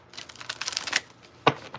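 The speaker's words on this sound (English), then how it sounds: "2 more shuffles" Tarot cards being shuffled in quick riffling bursts, close and crisp, followed by a brief pause and one sharper snap of cards.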